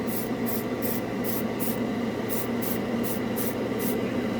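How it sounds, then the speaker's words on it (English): An airbrush set to 15 psi sprays AK Interactive Xtreme Metal paint with a steady, close hiss, while a faint high-pitched pulse repeats in a regular rhythm over it. "You can barely hear it coming out of the airbrush."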